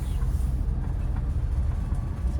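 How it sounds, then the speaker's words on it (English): A train rumbles past on a nearby railway line behind terraced houses, a loud, steady low roar that fills the whole moment without pause. "There's a train line"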